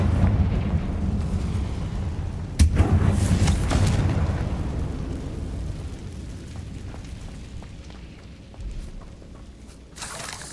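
A Confringo fire spell bursts in Hogwarts Legacy: a sharp blast near the three-second mark rolls into a long, loud rumbling roar that slowly fades, then a second, smaller burst lands near the end.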